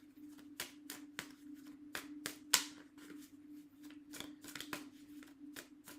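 Tarot cards being shuffled and drawn by hand, a quiet series of crisp flicks and riffling snaps at an irregular rhythm over a low steady hum.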